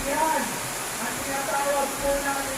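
Heavy rain pours down on garden rose plants, a dense, steady hiss that holds at an even, fairly loud level throughout with no clear break.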